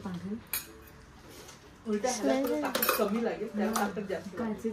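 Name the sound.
small plate being handled among dishes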